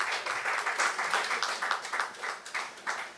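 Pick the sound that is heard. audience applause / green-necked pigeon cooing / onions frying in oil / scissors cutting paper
audience applause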